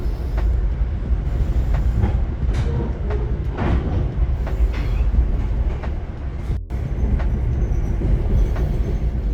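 An NJ Transit commuter train runs along its tracks between Newark and Montclair, crossing over a switch, with a steady loud rumble, wheel clatter and rhythmic clicks, plus a brief dropout midway.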